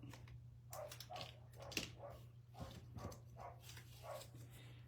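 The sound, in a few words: dog barking outside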